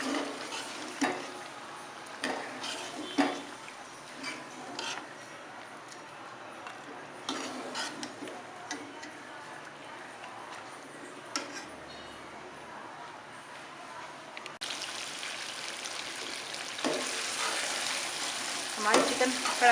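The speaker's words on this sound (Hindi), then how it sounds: "और इसे भून लेंगे अच्छी तरह जब तक दही का पानी खुशक नहीं हो जाता।" Chicken and yogurt for chicken karahi fry in a pan, steady low sizzling with occasional scraping stirs and clicks, continuous throughout with no talking.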